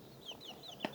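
Hens cluck in a small backyard chicken coop, with a few soft, high, repeated calls and one sharp, louder cluck near the end.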